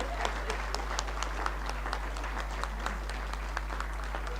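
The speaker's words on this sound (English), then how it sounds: "Let's all clap for our team members now." An audience claps for faculty team members at a University of Nairobi staff performance awards ceremony, a moderate, fairly even patter of hands over a steady electrical hum, with faint voices in the background.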